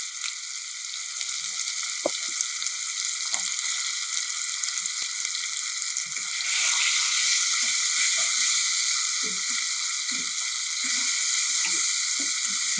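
A ground paste is stirred in a hot pan, giving a continuous bright sizzle that grows louder partway through, with soft spoon scrapes and knocks close by and no voices.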